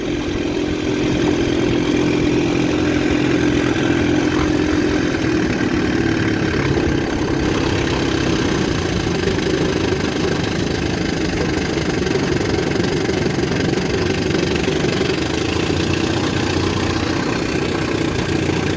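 A 1960 Scott-McCulloch 12/14hp outboard motor idles steadily on a lake, a close, continuous low throbbing drone with an even rumble that holds level throughout, with no talking.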